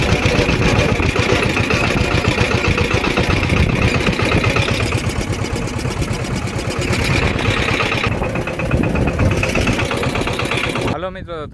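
A tractor with a tine cultivator hitched to it runs at a close, loud, steady chug throughout, while a person talks over the engine.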